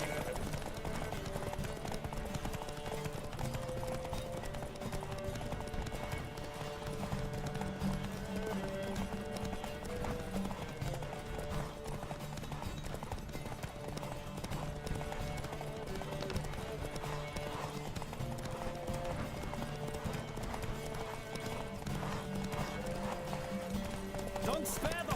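Galloping horse hooves in The Witcher 3: Wild Hunt during a horse race, a steady rapid clip-clop running continuously under game music with occasional voices.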